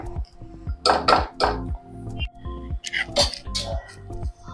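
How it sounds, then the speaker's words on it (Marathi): A lid set down on a cooking pot of jowar ambil with sugar, heard as a few close metallic clinks and clanks of cookware amid kitchen handling, with some background voice. "आता हे शिजण्यासाठी याच्यावर मी झाकण ठेवून देते"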